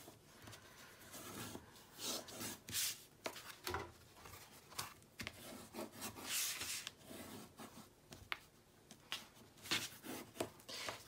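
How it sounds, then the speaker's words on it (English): Paper for an 8½ by 8½ inch mini album being burnished by hand, repeated rubbing and scraping strokes in uneven bursts, close and fairly soft, with no talk. "I'm going to burnish everything."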